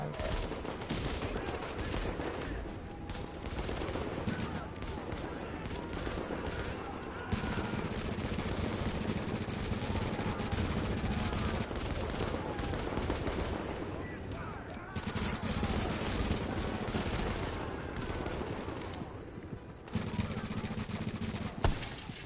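Gunfire in a PS4 online shooter game, with steady rapid bursts of shots and reload clicks running continuously under game ambience and a voice talking over it.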